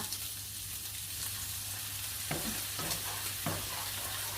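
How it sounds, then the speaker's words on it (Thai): Beaten eggs stirred in a hot pan with cooked fresh shrimp and fragrant garlic for Thai shrimp fried rice, a steady close sizzle with a few sharp scraping stirs near the end. "ไข่ที่เราเตรียมไว้นะคะก็ตีในกระทะนะคะ ตีให้แตก"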